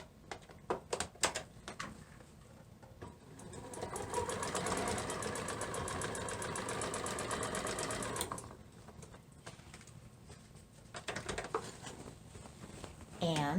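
A sewing machine runs a straight line of stitching on a market tote bag, humming steadily for several seconds at moderate volume, with clicks and handling noises before and after.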